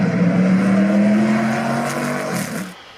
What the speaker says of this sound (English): There's a car approaching rather quickly.